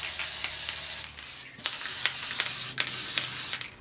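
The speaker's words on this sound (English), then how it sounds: "I'm just going to respray this vase a different colour" PlastiKote aerosol spray paint hisses onto a vase in three long bursts with brief pauses between them, close and steady, no voices.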